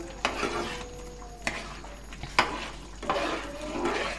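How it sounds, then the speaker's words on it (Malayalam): Paneer tikka masala gravy with kasuri methi stirred in a pan, a utensil scraping and knocking against the metal in several separate strokes, close by with no voices. "ഇനി അത് നന്നായിട്ടൊന്ന് മിക്സ് ചെയ്ത് കൊടുക്കാം"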